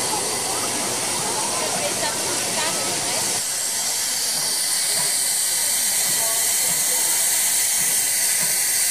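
Historic Papagaj steam locomotive releasing a loud, steady broadband hiss of steam that continues unbroken, with a rumbling mechanical texture beneath it in the first part, close by.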